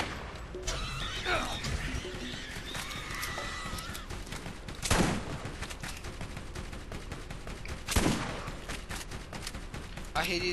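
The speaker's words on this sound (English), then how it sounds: "I shot them with a sniper, they're coming for me" Gunfire in the Borderlands video game: repeated shots and bursts over a steady bed of game noise, with two louder, heavier blasts standing out partway through, and a voice talking at times.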